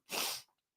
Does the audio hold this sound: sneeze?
yes